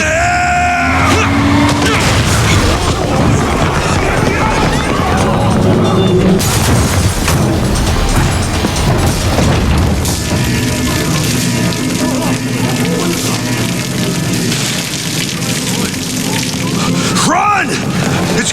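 A big video-game explosion in Yakuza: Like a Dragon, a loud, dense roar of blasts and crackling debris that rumbles on, with excited voices talking over it.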